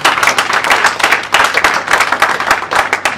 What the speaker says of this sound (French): Est-ce qu'on peut acclamer pour cet homme?